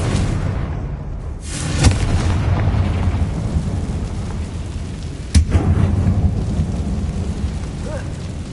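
Confringo fire-blast spells go off in Hogwarts Legacy as two sudden booming bursts a few seconds apart, loud over a constant dense rumble of game ambience.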